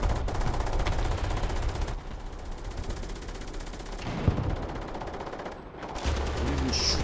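Machine gun fire in the War Thunder tank game, a dense rattling burst at the start and again near the end, with a quieter stretch of rumbling battle noise between.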